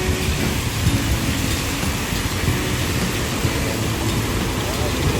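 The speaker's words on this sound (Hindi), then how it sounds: "बारिश बहुत ज़्यादा हो रही है, बारिश।" Steady heavy rain pours down at Gaddafi Stadium in Lahore in a dense, continuous broadband wash, with faint voices underneath.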